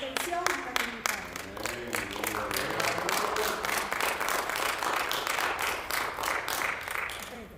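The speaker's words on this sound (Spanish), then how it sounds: "Si ese aplauso es para el Señor, dele fuerte ese aplauso al Señor" A church congregation claps together during a service. The even, continuous applause fills the space throughout, with a voice heard faintly over the opening moments.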